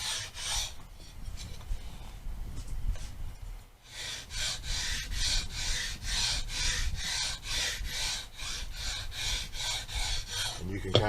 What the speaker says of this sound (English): I'm not trying to grind the frets down. I'm just trying to